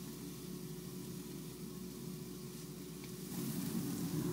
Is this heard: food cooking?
yes